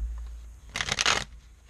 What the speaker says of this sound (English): Ugh, that was an ugly shuffle.